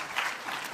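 A church congregation claps during an autumn dawn worship service, producing a brief burst of many hands applauding together, moderately loud.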